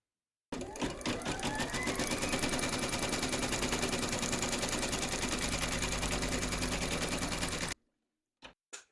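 An embroidery machine stitches batting held in a hoop, a fast, steady mechanical rattle that runs loud and unbroken for about seven seconds, then stops, followed by a few faint clicks.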